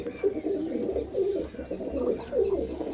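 Pigeons kept by a fancier in Kartarpur coo in low, rolling, overlapping phrases, nearby and steady throughout, with no talk.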